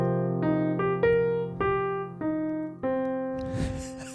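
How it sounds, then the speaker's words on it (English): A jazz piano arpeggio climbs and descends in seven distinct notes over a held bass chord, evenly paced and close, ending with a brief rustle or thump at the close. "descending arpeggio motion is going to sound like this"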